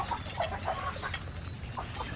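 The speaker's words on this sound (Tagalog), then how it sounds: "Nag-iisa na lang yung sisiw nating labuyo." A red junglefowl hen and her lone chick cluck close by in a short burst, with soft repeated clucks and faint high peeps over a quiet farm background.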